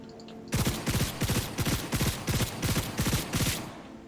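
A quick string of about nine evenly spaced, loud, punchy gunshots in Cyberpunk 2077, fired in a steady rhythm after a brief quiet start.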